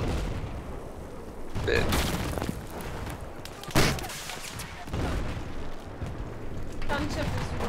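Gunfire and explosions from a Battlefield 4 Conquest multiplayer match rumble continuously, with several sharp louder blasts standing out against a dense, busy battlefield bed while players talk over it.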